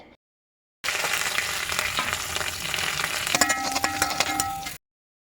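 Onion sizzling and frying in hot oil with cumin, garlic and curry leaves in a pan for a bitter gourd curry, a steady loud crackle with occasional spoon scrapes and clinks, starting abruptly and cutting off after about four seconds.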